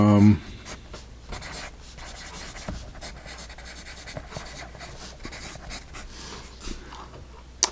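A Faber-Castell eraser scrubs HB pencil marks off paper in soft, repeated rubbing strokes, faint and close, under light background noise.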